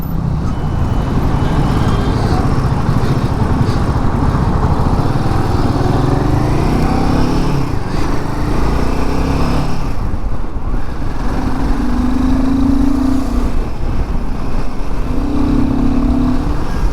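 A Royal Enfield Himalayan 450 motorcycle on the move gives a continuous, fairly loud engine and exhaust drone with shifting tones as it rides, the wind and road noise blending underneath.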